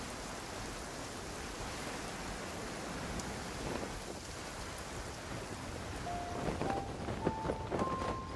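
Rain falls steadily in the video game Genshin Impact, a dense continuous hiss of drops on surfaces that swells slightly toward the end, with a few faint chiming tones near the close and no voices.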